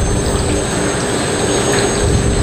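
Water flowing over freshly extruded PVC pipe as it leaves an extrusion machine in a pipe factory, a steady loud rushing wash with constant machinery hum underneath, no voices.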